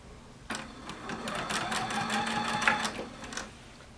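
Sewing machine stitching binding onto a quilt, a short run of rapid rhythmic needle clatter starting abruptly and holding steady for a few seconds, close and moderately quiet.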